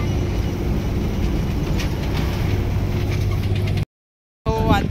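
Bus climbing a winding hill road toward a temple in Kolhapur, a steady loud engine and road rumble from inside the cabin that cuts to brief silence before a short burst of outdoor sound.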